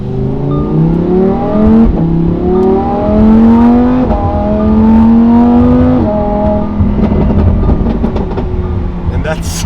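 A Lamborghini Huracan Performante accelerates uphill in sport mode, its loud engine climbing through rising revs with gear changes, heard from inside the car.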